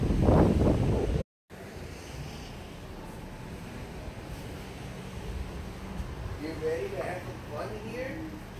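Wind buffets the microphone in a steady rush over surf breaking at a beach in Cancun, with a short dropout early on and voices rising near the end.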